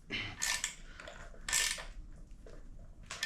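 Metal wrenches tighten bolts while a Champion 7-ton gas log splitter is assembled, giving a few close, quiet clicking and ratcheting bursts separated by short pauses.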